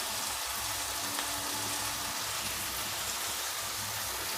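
Beans, cabbage and carrot sautéing in a pan for wheat egg noodles, giving a steady, even hiss and sizzle that runs throughout at moderate level with no talk.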